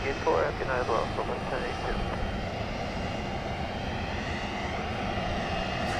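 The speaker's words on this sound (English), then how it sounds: "another flight coming in, flight 203 JSX. This will be an Embraer 145 arriving from Las Vegas." An Embraer 145 jet arriving at Dallas Love Field gives a steady, broad engine roar at moderate distance throughout, with a voice talking briefly near the start.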